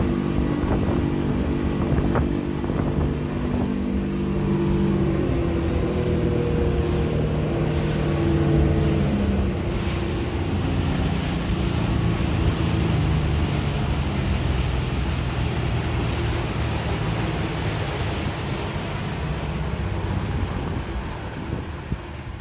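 A 2004 Century 2300 boat powered by a Yamaha four-stroke outboard runs at about 41 mph, giving a steady, loud engine drone mixed with rushing wind and water spray throughout, with no talk.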